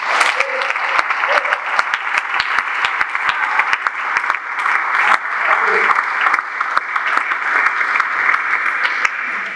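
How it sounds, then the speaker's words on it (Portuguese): A church congregation claps steadily during a bilingual Portuguese-English sermon on the plan of salvation, a bright, continuous patter of many hands with sharp individual claps standing out throughout. "Damos a palmas para Jesus."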